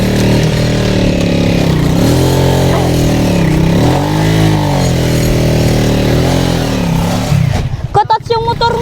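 A motorcycle engine runs loud and close, revving up and down in steady swells with voices talking over it, then drops off near the end.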